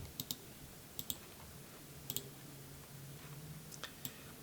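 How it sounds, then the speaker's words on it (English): Faint computer mouse clicks come in quick pairs, several double clicks spread across a quiet room background with low hum. "Next, you can click continue."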